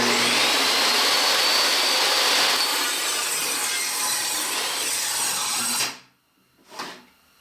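A power saw cuts through a 2x4 in a steady, loud, whining roar that suddenly stops when the breaker trips, then a brief faint surge follows.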